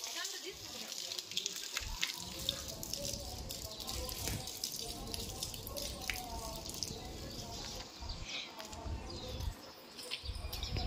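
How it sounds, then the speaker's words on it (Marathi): Steady splashing and pouring water runs continuously, fairly close, with faint birdsong and distant voices in the background. "आता मी झाडांना पाणी घालून घेते"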